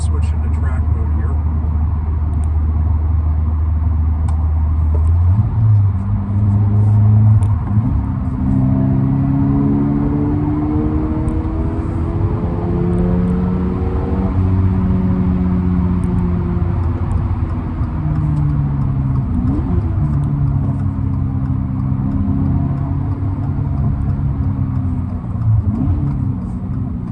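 A 2023 Toyota GR86 in track mode pulls hard through the gears, its engine climbing in pitch, dropping at each shift and rising again, loud inside the cabin while someone talks over it.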